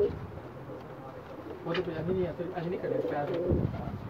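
A pair of Ferozpuri pigeons coo in soft, low, rolling calls, close by and moderately quiet, with someone talking over them.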